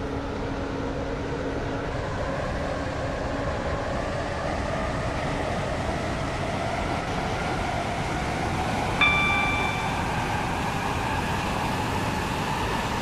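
A three-coach Waterline train runs toward Newry, a steady loud rolling rumble with whining tonal drone throughout and a brief bright chime partway through.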